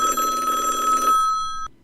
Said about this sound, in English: Just then, a telephone ringing was heard.